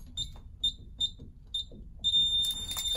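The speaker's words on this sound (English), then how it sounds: "Setting the alarm." A home alarm system chirping as it is armed, giving a short series of evenly spaced high electronic beeps that run into a continuous tone at the end, loud and close.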